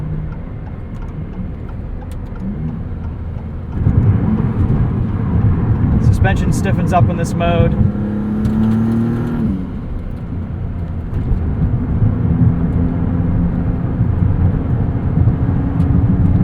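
A 2022 Maserati MC20 driven in sport mode, its engine droning loudly from inside the cabin and surging as it pulls harder, with someone talking over it throughout.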